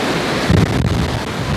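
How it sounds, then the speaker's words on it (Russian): Strong seaside wind roars and buffets a microphone over crashing surf on the coast at Liepāja, loud and continuous with no voices. "Чувствуешь, да, какой ветер? Прям сносит."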